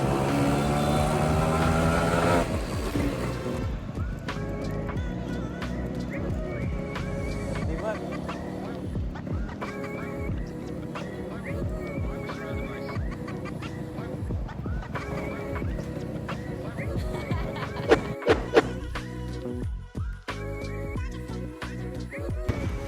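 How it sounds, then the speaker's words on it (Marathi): A Yamaha RX100 motorcycle engine runs on the road, its uneven two-stroke drone and rasp rising and falling under a voice, with a few sharper bursts near the end. "बघा गाडीचा आवाज, बघा गाडीचा आवाज"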